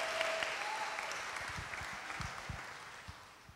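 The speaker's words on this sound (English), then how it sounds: "Can we give men a round of applause again?" A church congregation claps for the men on Father's Day, a broad wash of applause with a few sharp nearby claps, gradually fading toward the end.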